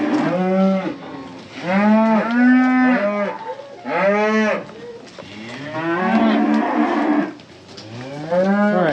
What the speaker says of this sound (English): Cows are all excited.